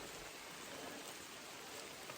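Rain falls along the Appalachian Trail on a hike toward Spaulding Mountain. It makes a faint, even hiss of steady drops without a break, and no voices or other sounds stand out.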